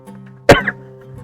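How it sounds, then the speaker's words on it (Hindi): A single sharp cough, close and loud, standing out briefly against a quiet hum. "सॉरी, खांसते हुए लग रहा।"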